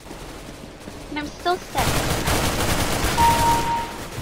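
Bursts of CS:GO gunfire crackle loud and near, a short burst early, then sustained dense automatic fire dominating the rest, with a person talking briefly over it.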